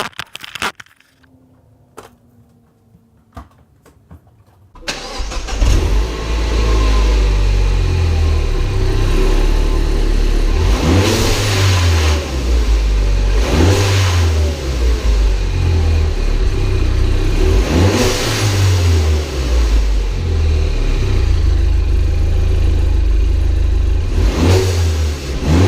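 A Mini Cooper engine fitted with a Dewhel blow off adaptor revs repeatedly after a quiet start, loud and close, with rising surges and sharp whooshing releases between pulls.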